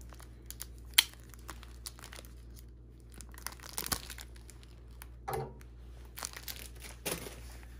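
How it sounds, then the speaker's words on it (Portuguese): Paracord cut to about 30 centimetres, with scattered close crinkling, rustling and tearing sounds and a few sharper snaps over a steady low background hum. "Cortei mais ou menos 30 centímetros de paracorde."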